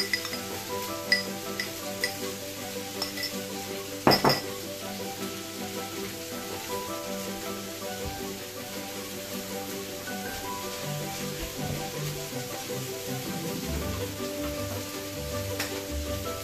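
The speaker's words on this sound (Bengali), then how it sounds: "আমার যে সসটা আগেই ছিল সেই সসটা আমি দিয়ে দেবো এর সাথে" Salmon cooking on a grill sizzles and crackles steadily throughout as sauce is added, with a brief sharp clink near the middle and no talking.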